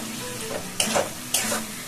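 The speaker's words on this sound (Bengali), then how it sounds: "এবার আমি একটুখানি কষিয়ে নিই, গ্যাসটা ফ্লেমটা বাড়িয়ে দিই" Spices and turmeric sauté in a pan over a raised gas flame, a soft steady sizzle broken by two quick scraping strokes of a spoon against the pan, close by and with no talking.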